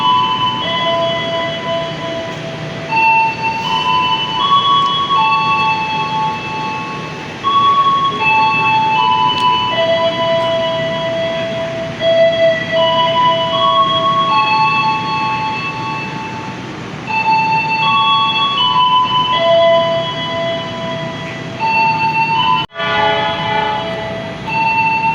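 A steady rumbling hum of a KA Progo economy-class train idling at Perunjakan station during a crew change, with sustained tonal notes like chimes or horns stepping up and down throughout.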